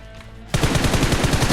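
Gunfire from a Winchester rifle in the mobile game PUBG Mobile, on a Bedwars-style map, bursts in suddenly as a loud, dense rapid rattle of shots that continues to the end without speech.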